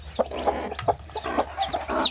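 A hen with seven newly hatched chicks, clucking in short repeated bursts mixed with high chirps, close by and with no talk.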